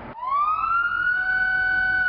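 Siren of an armored police SUV in Cicero, a loud, close electronic wail that starts abruptly after a brief burst and rises into a sustained tone with harmonics.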